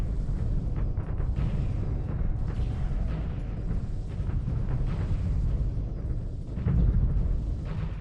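Space battle in the strategy game Homeworld with Vaygr fleets and heavy missile frigates: continuous rumbling barrage of missile launches and explosions, dense and booming throughout, with a louder burst near the end.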